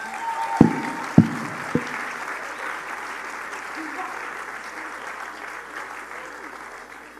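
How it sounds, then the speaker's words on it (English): Audience applause for performers at a Zoroastrian inaugural Jashan and opening ceremony, a steady wash of clapping that fades gradually, with a few sharp thumps near the start. "Please give them another warm round of applause."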